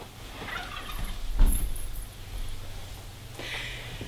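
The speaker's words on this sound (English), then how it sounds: "turkeys." Turkeys gobble outdoors in a few loose bursts, one louder call near the middle and another toward the end, over a low rumble like a passing vehicle.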